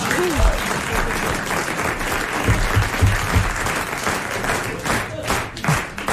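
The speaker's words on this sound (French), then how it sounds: "On applaudit Léon Zitrone." A French TV studio audience in 1994 applauds Léon Zitrone with sustained clapping, a full crowd wash with a few low thumps and faint voices mixed underneath.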